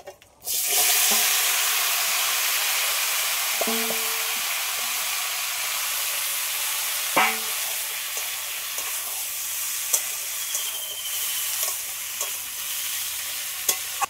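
Marinated young jackfruit hitting a hot pan and stir-frying, a loud sudden sizzle that settles into a steady close hiss with occasional clinks of a spoon, no speech.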